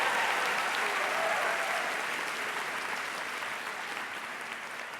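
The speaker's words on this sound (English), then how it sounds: "You can go ahead and applaud." A large crowd applauds at a Fine Arts Center commencement ceremony for the class of 2022, with a dense, sustained wash of clapping that tapers slightly toward the end.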